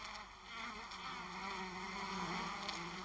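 Honeybees inside a hive holding tens of thousands of mostly worker bees, giving a steady, dense drone of buzzing that fills the space continuously, fairly close and unbroken, with no voices.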